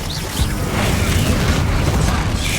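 Expelliarmus spell cast in Hogwarts Legacy, a sudden booming impact followed by a sustained dense, mechanical-sounding rush of noise, loud and close.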